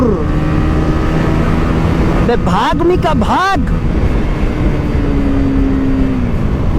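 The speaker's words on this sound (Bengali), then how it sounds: "এটা সাউন্ডটা সুন্দর মনে হয় কোনো এক্সস্ট লাগা রাখছি বাট এটা কিন্তু এই বাইকের সাথেই" A nearby motorcycle engine revs through its exhaust in a couple of quick rising and falling bursts midway, then settles back to a steady idle. Someone talks over it.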